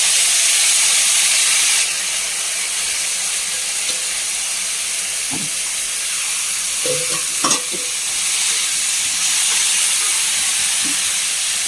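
Hyacinth beans hit hot oil with fried chillies, raising a loud, continuous sizzle and hiss, with a few soft stirring clinks and scrapes from a utensil partway through.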